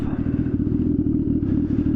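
Turbocharged Suzuki Hayabusa motorcycle pulling away with its engine revving, a loud, steady low rumble with rapid pulsing that continues throughout, no talk.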